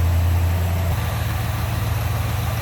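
A 1964 Chevrolet El Camino with a 350 small-block V8 idles steadily after warming up, a close, low, even rumble with a slight shift in pitch partway through, no talk.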